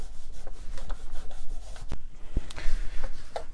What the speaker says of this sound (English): try to use this Bostil to actually scrub most of this down